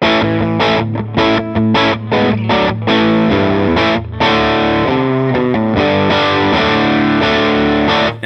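Heavy, high-gain distorted electric guitar through a Line 6 Helix, chugging tight metal riffs, dense and loud with short palm-muted stops between phrases.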